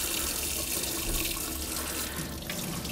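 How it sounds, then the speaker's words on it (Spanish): Hot water runs steadily from a kitchen tap into a sink, a continuous broadband splashing hiss held at an even level throughout, close by, with no voices. "ponéis el agua caliente del grifo"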